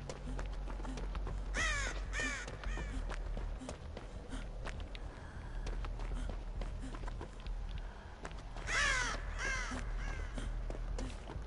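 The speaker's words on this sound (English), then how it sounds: "Bloody crows." Crows caw in the horror video game Dead by Daylight, two bursts of several harsh calls over steady game ambience with footstep-like thuds, no talking.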